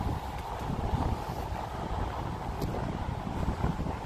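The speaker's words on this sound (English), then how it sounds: "It's windy out here." Steady wind by the ocean at Galveston, Texas buffets the microphone with a low, constant rumble and roar outdoors, loud and unbroken throughout.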